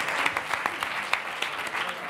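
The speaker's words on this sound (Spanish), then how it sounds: "Sí, puedes aplaudir." Studio audience applause at a Spanish comedy panel show, a steady wash of many hands clapping with a few louder claps standing out, fairly close and filling the room.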